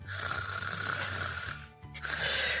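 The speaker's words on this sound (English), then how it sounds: "TT snoring." Loud, close snoring drones in a long rough inhale, breaks off briefly, then starts again with another buzzing breath.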